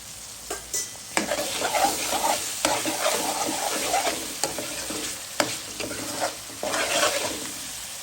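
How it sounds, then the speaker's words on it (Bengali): Chopped onion, ginger and garlic fry and get stirred in a pan for a fish, cauliflower and potato curry, a soft steady sizzle broken by repeated scraping stirs of the spoon, close and fairly quiet, with no talking. "পেঁয়াজটা ভাজা ভাজা হয়ে গেছে, আমি একসাথে দিয়ে দিলাম আদা রসুন।"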